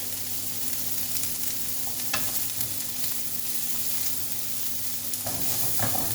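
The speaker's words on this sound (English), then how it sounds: "So get your onions in, start sauteing them and get them nice and soft." Onions softening in a hot pan produce a constant, even sizzle at moderate loudness, with a low steady hum beneath it and a few faint clicks from stirring.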